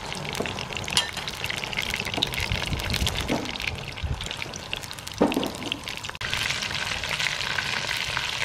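Mutton meatballs (kofta) fry in hot oil in a pot with a steady, loud crackling sizzle throughout, marked by occasional brief stirring clinks.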